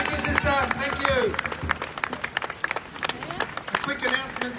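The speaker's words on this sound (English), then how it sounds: "Big round of applause for Tani, please." Audience at a Free Palestine rally clapping for a speaker, a scattered round of applause mixed with cheering voices and crowd chatter, fairly close and continuous through the moment.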